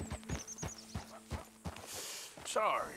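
Horse hooves clip-clop in a steady walking rhythm in Red Dead Redemption 2, close and clear, followed by a short neigh and a burst of game noise near the end.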